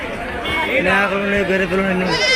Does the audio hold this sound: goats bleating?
yes